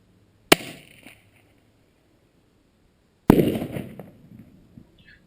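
Two sharp, loud blasts from explosive shotgun shells fired at a cardboard box target downrange, the first a crisp crack with a short tail, the second louder and followed by a longer rumbling, crackling burst.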